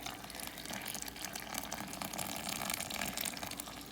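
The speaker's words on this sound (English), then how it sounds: "Get our hot water in there." Hot water pouring steadily from a tap while making German chocolate cake, a continuous close splashing rush with no talking.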